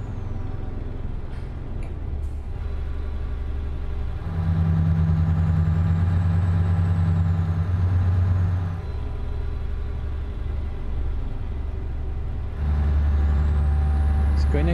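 A truck in Euro Truck Simulator 2, carrying about 21 tonnes, labours up a hill with a steady engine drone that swells into two louder, deeper stretches.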